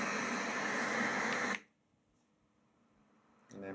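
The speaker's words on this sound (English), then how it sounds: "then we've got pink noise, which is a bit deeper" A Letsfit white noise machine plays pink noise, a steady, dense hiss held loud and close for about a second and a half before it cuts off, leaving near silence until a faint click.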